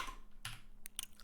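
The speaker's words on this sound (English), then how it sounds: "I'll continue typing and I'll just read when you're ready." Computer keyboard typing while writing Rust code, a few faint, quick key clicks in a quiet room, isolated taps rather than a steady rhythm.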